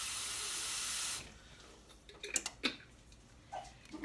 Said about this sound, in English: I actually like to fill my marinara jar with about a quarter to a half a cup of water.